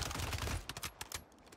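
Heavy gunfire in a video game gunfight: a dense, loud burst of rapid automatic shots gives way to scattered single and double shots that fade toward the end.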